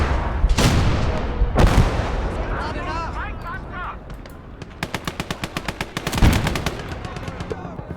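Rapid machine-gun bursts and heavy booming shots from an 88 gun and tanks in a war video game, loud and close, with sharp single blasts followed by a long rhythmic stream of fire.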